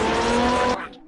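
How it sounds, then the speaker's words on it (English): Race car in the CarX racing game roaring loud and close with a sustained engine whine and squealing tires, cutting off abruptly and leaving a short fading tail. "that car is very noisy"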